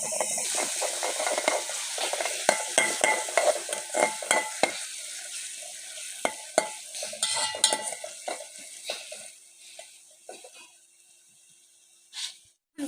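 A paste frying with spices and onion in a pan, sizzling close up under quick scraping stirs that grow sparse and fade toward the end.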